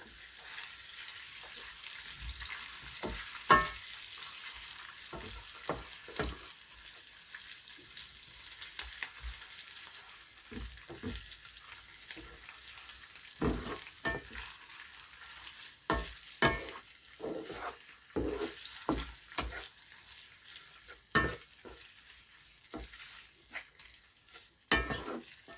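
Onions and tomatoes frying in a pan for spaghetti sauce, a soft sizzle under intermittent spoon scrapes and taps against the pan, growing busier toward the end.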